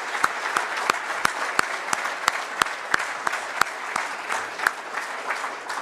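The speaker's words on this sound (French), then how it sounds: "Je voudrais qu'on les applaudisse." An audience at a Rio Tinto investment announcement in Québec applauds steadily, a dense wash of many hands clapping with a few sharper individual claps standing out, continuous and fairly close throughout.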